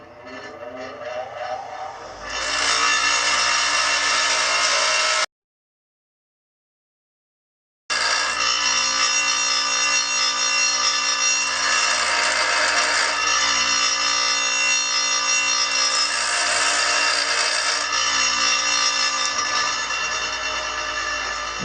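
An angle grinder cuts through a thick aluminum axle slider on a KLX140 mini supermoto, a loud sustained high-pitched whine with a gritty edge, heard up close, broken by one abrupt gap of silence before the cutting resumes.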